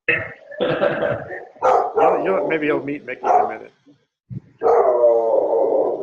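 A beagle barks loudly in repeated sharp bursts, with one long drawn-out bay at the end, while someone talks during a video call and pauses between the barks.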